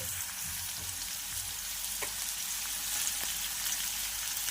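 Chopped onion and finely cut green chillies fry in a pan for Mumbai-style chana bhel, giving a continuous, even sizzle at moderate volume with a few soft stirring taps.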